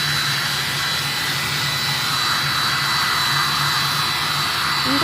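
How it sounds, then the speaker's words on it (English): A hand-held blow dryer runs continuously while drying paint on a rainbow tiara, a steady loud whooshing whine with a constant motor hum from start to finish. "if you have a handy little blow dryer like this"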